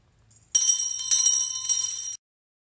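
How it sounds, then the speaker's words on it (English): A hand bell rings out loud and bright for about a second and a half, opening a children's Circle Time, with a jingling, sustained shimmer in three quick pulses and no talk over it. "Ring the bell so everyone can hear."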